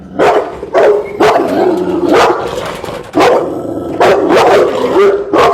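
Dog barking loudly and close up at a person facing it, sharp barks coming in irregular bursts of about seven or eight, with short pauses between them.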